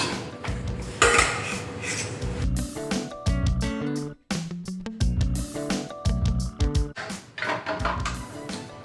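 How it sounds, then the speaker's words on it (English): A spoon or spatula works pecan sandies cookie dough around a bowl, giving repeated clattering scrapes and knocks against the dish, with music playing throughout. "Give it a little mix."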